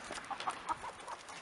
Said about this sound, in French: là j'ai à toutes mes poules.